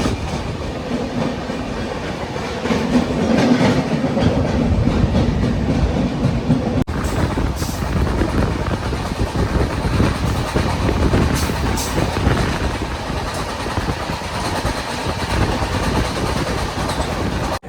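A train rumbles past close by with steady clickety-clack of wheels on rails, a continuous loud roar lasting throughout.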